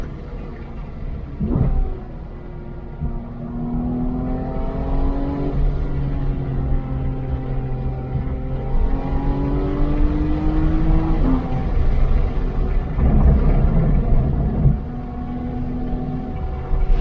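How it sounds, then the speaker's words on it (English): A car engine drones steadily as it drives, rising and falling in pitch through gear changes and revs, loud and close with no voices. "I'm going to be quiet here, turn up your volume, listen to the car."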